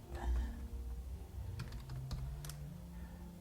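A computer keyboard clicks quietly in a short burst of typing as a command is entered, faint and close with no talk over it.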